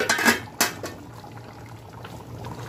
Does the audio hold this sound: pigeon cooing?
no